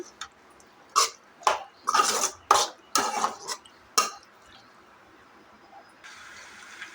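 Pasta being mixed with tomato paste in a pan, a series of distinct scraping and clattering utensil strokes, roughly eight sharp knocks in uneven rhythm, then quiet with a faint hiss at the end.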